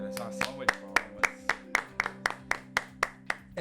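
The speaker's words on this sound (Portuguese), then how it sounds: "Era só uma salva de palmas." Evenly spaced hand claps, about a dozen sharp claps in a steady rhythm, close and fairly loud, with a sustained low tone beneath, following a sung Brazilian song moment.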